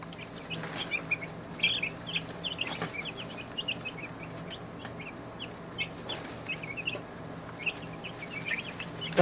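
Young chicks crowded in a kiddie pool cheep constantly, with many high chirps overlapping at close range over a low, steady background hum.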